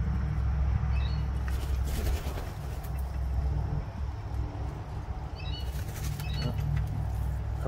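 Pet toucans flap their wings in a steady, close, rustling flutter over continuous room noise, with a few faint chirps or squeaks.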